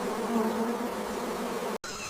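Stingless bees buzz among forest flowers in a close, continuous drone, the hum breaking off for a split second near the end before resuming.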